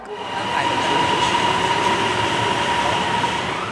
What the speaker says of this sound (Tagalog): Kada 5 minuto, may dumarating na tren.